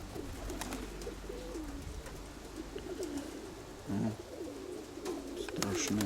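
Pigeons coo in soft repeated phrases near a loft, with a brief flutter of wings as a hen pigeon takes off. Someone talks quietly at times.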